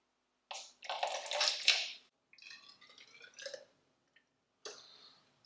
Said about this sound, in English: I'm going to put a little bit into this container, a little bit from each